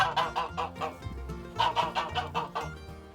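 A gander on a Wiltshire smallholding honks in a rapid run of loud, nasal calls, about a dozen in quick rhythmic bursts with a brief pause midway.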